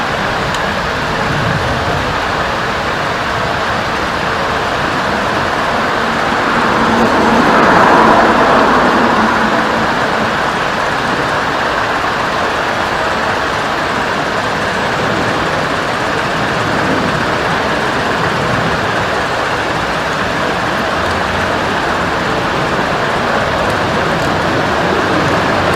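A 1989 Suzuki RMX 250 vintage dirt bike engine runs continuously and loudly, with a brief swell in revs around the middle before settling back to a steady, rough drone.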